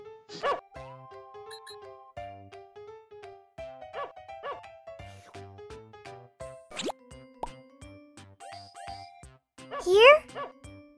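A cartoon puppy gives a few short, bright barks between stretches of children's cartoon music and sound effects, close and clear, with a louder yelping burst near the end.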